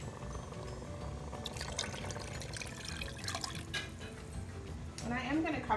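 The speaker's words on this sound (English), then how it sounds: "And I'm gonna add some more water." Water pours into a pot of carnitas taco meat, a steady liquid wash with drips that swells briefly near the end, heard close under kitchen background noise.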